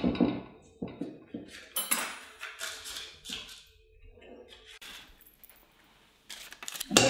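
Paper cupcake cases tipped into a metal cupcake tray in a home kitchen, giving a series of light clinks and rattles at irregular intervals, close and fairly quiet.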